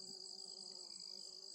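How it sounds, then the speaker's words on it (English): A bee buzzes steadily in a backyard bean garden, a faint, continuous insect drone held close throughout with no talk over it. "Look, there's a bee."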